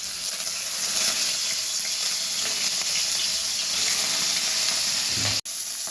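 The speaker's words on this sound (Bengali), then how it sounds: "চিকেনটা দিয়ে দেবো কড়াইতে।" Chicken pieces sizzle in a little hot oil in a wok, giving a dense, continuous bright hiss that barely varies. A brief clatter comes near the end.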